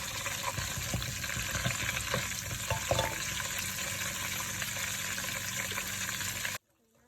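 Cashews stirred in a hot frying pan while cooking butter chicken: a steady close sizzling hiss with light scraping stirs, which cuts off abruptly near the end.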